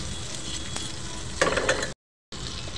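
Butter and oil sizzle steadily in a pan while cooking egg masala, a close, even frying hiss that briefly grows busier and then cuts out for a moment before resuming.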